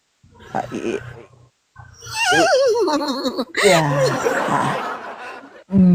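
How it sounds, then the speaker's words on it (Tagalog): A horse whinnies in a long, wavering, loud call with rising and falling pitch. It is framed by short snorting or chuckling bursts and a brief voice before it. "Kabayo yan."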